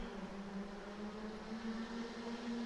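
Racing kart engines drone steadily at the start of a national series kart final, a continuous buzzing whine with no breaks throughout, fairly distant and uniform in level.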